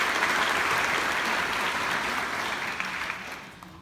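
Sustained applause from a graduation audience honoring the student organizers of a chemistry and biochemistry department ceremony, steady and fairly loud with no voices, tapering off slightly toward the end.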